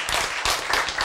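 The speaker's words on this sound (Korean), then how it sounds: "박수." An audience claps during a lecture, a brief burst of applause at steady loudness with a swell in the middle, no talk over it.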